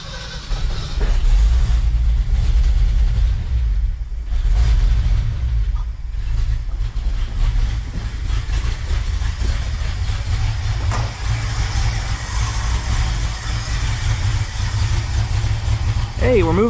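An old pickup truck's engine idles roughly after a few gas pumps while its stale fuel is run through the lines. The loud, close low rumble is steady and uneven, with a voice heard briefly.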